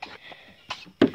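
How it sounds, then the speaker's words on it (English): A young goat coughs up cud in a barn setting: a few soft, husky coughs followed by one sharper, louder hack at the end, close by with no talking. "She's coughing cud, I think."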